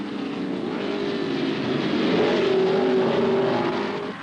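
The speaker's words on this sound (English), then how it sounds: "Fangio and Moss go past" 1955 Formula 1 racing cars at the British Grand Prix roaring past, a loud, sustained engine drone that swells as the cars go by, with no talking.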